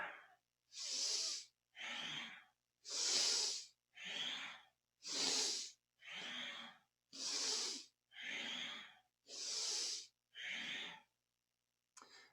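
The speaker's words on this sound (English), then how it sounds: "Using a powerful breath." Strong, rhythmic yoga breathing during a Kundalini kriya: about ten loud, forceful breaths close to the mic, alternating inhales and exhales at a steady pace with brief silences between them.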